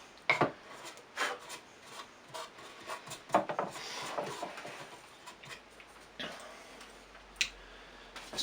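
Sharp chisel paring wood along a V joint, guided on the flat shoulder of the V: quiet, close scraping and rasping strokes in irregular bursts, with a few sharper ticks and knocks between them.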